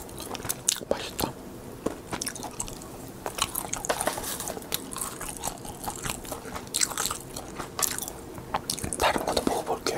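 Crunchy seasoned seaweed (gim) bitten and chewed up close, a steady stream of crisp crackling crunches and soft mouth sounds throughout, with no talking.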